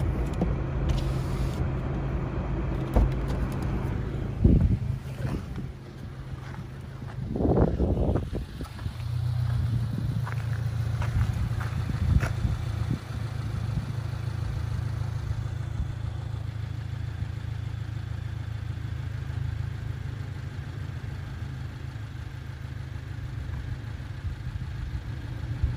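A car engine idles in a low, steady hum throughout, with brief rustles and knocks on top of it partway through.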